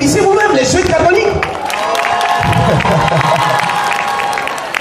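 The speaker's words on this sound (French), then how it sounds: "c'est comme ça que vous vous applaudissez vous-même, les jeunes catholiques" Young Catholics at a church Valentine's Day gathering in Anono applaud, cheer and whoop, making a loud, lively crowd noise of clapping and shouts that dips briefly and then surges again, with voices mixed in.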